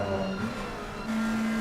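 McLaren and Ferrari race cars on the Misano circuit in an ACC sim racing game: a steady engine drone with a sustained tone that rises in pitch, continuous and even throughout.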